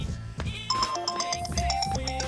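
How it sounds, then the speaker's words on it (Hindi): A mobile phone ringtone plays a quick, bright repeating melody of electronic tones, close and clear, with no talk over it. "अरे डार्लिंग का फोन आ गया।"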